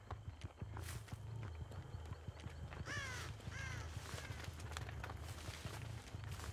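Several harsh crow caws ring out in a video game, clustered in the middle of the stretch, with a rhythmic clip-clop of hooves or footsteps and thuds running underneath throughout.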